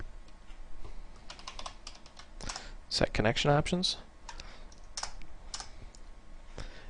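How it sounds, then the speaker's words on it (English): Fast clattering keystrokes on a computer keyboard while coding in C++ with Qt, with bursts of typing around and under a man's brief spoken words. "it's going to be a lot of typing"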